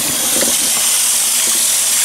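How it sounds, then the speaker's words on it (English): Running water rushes steadily over a cast iron pan being rinsed in a sink, a continuous close hiss with faint splashing throughout. "I'm gonna rinse some more of it out, gotta get the residue out"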